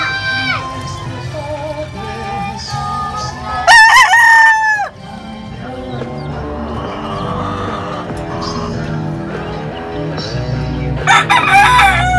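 A Sweater gamefowl cockerel, inbred, crows loudly and close in a sharp burst, and a second crow follows near the end, over a busy background of other clucking fowl and distant noise.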